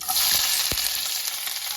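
Hot oil sizzles and crackles in a kadhai, a close, steady frying hiss with a couple of brief stirring scrapes and no talking.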